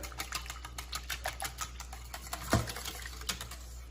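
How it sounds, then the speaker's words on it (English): Vanilla and almond extract are whisked for French toast batter, a quick steady ticking of a whisk against a bowl, close and fairly quiet, with one louder knock partway through and no voices. "Whisk that up."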